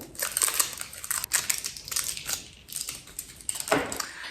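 Plastic packaging crinkles and tears close up as a Pupa eyeliner pencil, shade 004, is unwrapped, in irregular crisp bursts with brief pauses between them.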